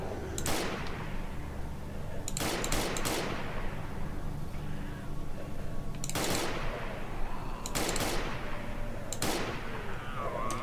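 Gunshots in S.T.A.L.K.E.R.: Call of Misery, likely from an SG550 rifle: several sharp, loud shots spaced a second or two apart, some in quick pairs, each with a short ringing tail over steady background ambience.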